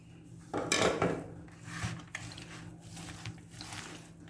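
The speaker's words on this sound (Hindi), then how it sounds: "हाथ की मदद से कर लेंगे अच्छे से हम मिक्स" Spiced potato filling for aloo samosas mixed by hand in a bowl with chopped green chillies and coriander, a soft squishing and clinking of the bowl, strongest in one early burst, then quieter handling without talk.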